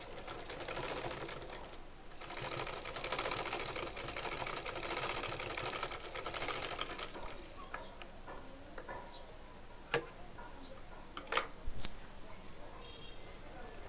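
A sewing machine stitches a neck design on fabric, running in a fast steady mechanical chatter for several seconds before stopping, followed by scattered clicks and handling sounds.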